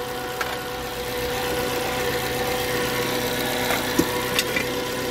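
A Suzuki APV van engine idles at close range, a steady mid-pitched rumble with a few light clicks and knocks over it, no talking.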